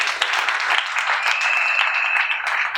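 Wedding guests at a civil ceremony break into sustained applause, a dense, steady wash of many hands clapping together throughout, fairly close and loud, with a faint whistle-like tone rising above the crowd partway through.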